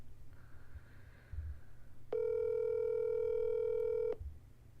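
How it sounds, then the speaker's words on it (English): A telephone dial tone hums steadily and loudly for about two seconds over a faint low background rumble, then cuts off. "call Justin back because he got to sign off"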